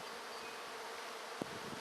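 Honeybees huddled at a hive give off a steady, faint, even buzz that runs on alone, broken only by a single brief knock near the end.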